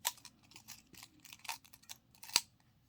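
Scissors snipping through crochet yarn, a few quiet close clicks and cuts with a sharper snip near the end, in an otherwise silent room.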